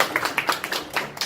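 Quick, light claps from one or a few pairs of hands at a public lecture, about a dozen sharp pats in a brisk irregular rhythm, close and fairly soft.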